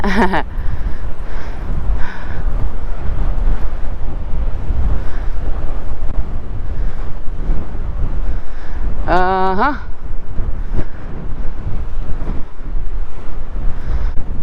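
Strong wind buffets the microphone in a constant low roar, with a brief voice cutting through midway, near the Red Sea in Dahab, Egypt.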